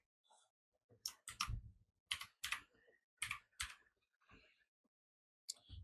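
Quick bursts of computer keyboard typing, several short clusters of crisp key clicks separated by pauses, close and clear while a location is entered into an online form.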